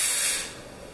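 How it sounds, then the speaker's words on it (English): A fog machine sprays clear mist during maintenance, a loud steady hiss that fades partway through and settles into a quieter, continuing spray. "then you'll start seeing a clear mist essentially coming out of the front of the fog machine"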